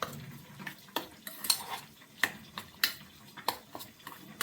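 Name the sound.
stirring chintakaya pachadi (tamarind pickle) in a pot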